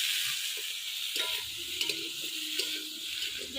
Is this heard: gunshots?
no